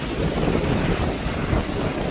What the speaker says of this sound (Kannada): ಇವಾಗ ಎಷ್ಟು ತಣ್ಣಗೆ ಗಾಳಿ ಬೀಸ್ತಿದೆ